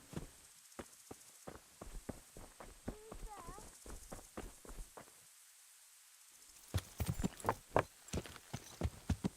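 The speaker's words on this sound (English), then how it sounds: "Is that a horse? That is a horse." Horse hooves clip-clopping in the medieval video game Kingdom Come: Deliverance, a run of hollow, evenly paced hoofbeats that pause briefly, then return louder and quicker.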